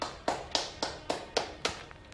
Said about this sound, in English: Let's have a nice round of applause for David